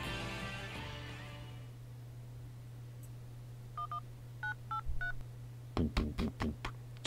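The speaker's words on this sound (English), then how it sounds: "I take out my phone and dial his number." A phone number dialed on a mobile phone, with a short run of quiet DTMF keypad beeps, some in quick pairs, followed by a few louder clicks over a steady low background hum.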